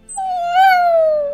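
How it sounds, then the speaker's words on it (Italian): A wolfdog gives a single clear howl lasting just over a second. The howl is close and loud, sliding slightly upward and then falling steadily. "Un cane lupo."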